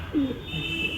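A pair of pigeons, a Chatiyal Phulshira pair, gives a single short low coo, close and fairly quiet, over faint background hiss.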